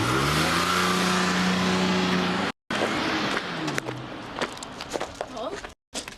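A car pulls away in a village, its engine noise fading and thinning out after a loud, steady stretch, with brief gaps and scattered clatter.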